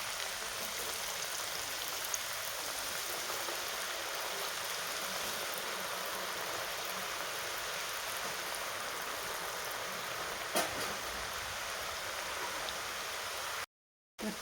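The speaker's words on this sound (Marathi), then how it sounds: "तेल चांगलं गरम झालं त्याच्यामुळं तळायला वेळ नाही लागणार आहे" Baati dough balls for Rajasthani dal baati fry in hot oil with a dense, even, rain-like sizzle that holds steady throughout, with no voices.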